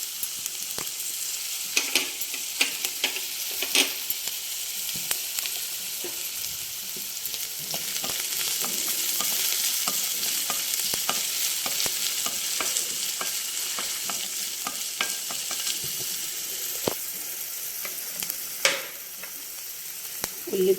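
Chopped ginger, garlic and green chillies fry in hot oil for a quinoa vegetable egg pulao, a steady close sizzle with occasional stirring clicks throughout and no talking.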